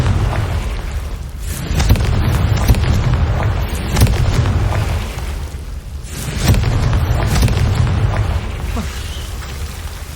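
Repeated Confringo fire-blast spell explosions in the video game Hogwarts Legacy, a dense run of loud booms and bursts at short intervals over a continuous rumbling backdrop, close and forceful.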